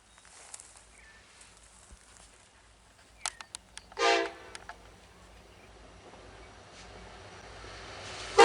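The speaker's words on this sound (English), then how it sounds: "disturbed only by the distant sound of a K5 LLA horn." A K5LA air horn sounds from far off across the quiet Alberta prairie on a CN line: one brief, faint blast partway through, set against near silence with only a light background hush.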